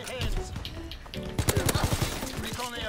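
Rapid bursts of gunfire from a Call of Duty: WW2 multiplayer match, a quick run of sharp close shots in the middle of the clip, amid game noise and a player's chatter.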